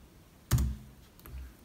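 Computer keystrokes while typing a fastboot flash command to set up a Xiaomi Mi 6 phone: one sharp, close click followed by a couple of fainter taps, with no voice.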